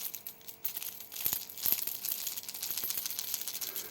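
A Strike Pro Inquisitor fishing lure shaken by hand gives a light, clicking rattle with scattered small taps and crinkly ticks, close and fairly quiet.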